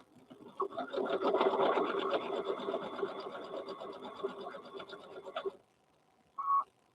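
A sewing machine stitches across the fabric of a handmade bear in one steady, rapid run of about five seconds, close by, followed by quiet and a short high tone.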